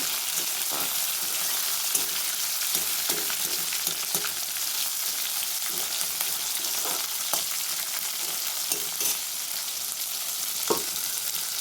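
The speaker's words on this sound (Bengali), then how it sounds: "তো এবার ভালোভাবে আমি এগুলো মিশিয়ে নিচ্ছি তেলের মধ্যে।" Tomatoes fry in oil while being stirred for a hilsa fish curry, a soft, even sizzle carrying through with occasional light taps and scrapes of the spoon.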